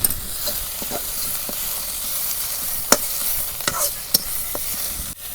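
Sliced onions crackle and sizzle in mustard oil, browning to golden for egg biryani, with a steady close frying hiss and several distinct scrapes and clinks of a spoon stirring the pan.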